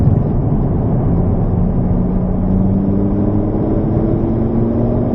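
A sports car pulls out of a corner on a cone-marked course under gentle throttle, its engine a loud, steady drone with a tone that slowly climbs across the whole stretch.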